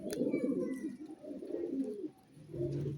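Pigeons coo in low, rolling, burbling phrases close by, repeating in short bursts with a brief pause, fairly quiet, with faint higher chirps in the background.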